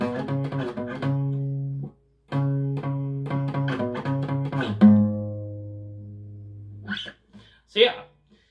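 Electric guitar plays the opening riff of a song for a guitar lesson, clear rhythmic chord stabs and sustained notes for about seven seconds, followed by brief talking or noise at the end.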